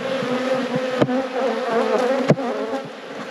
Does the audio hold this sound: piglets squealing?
no